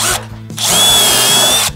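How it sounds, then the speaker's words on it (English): A power drill pre-drills a wooden deck board at an angle from the underside, with two short loud bursts followed by a longer steady high whine as the bit runs, close up with no talking. "I'm gonna drill these at an angle"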